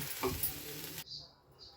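Spices for horse gram sambar tempering in oil: a short hiss and sizzle, stirred in the pan, fading into a softer, steady frying sound.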